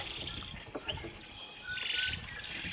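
Faint chirping birds at dusk and insects blend into a soft lakeside outdoor hum, with a brighter burst of high calls partway through.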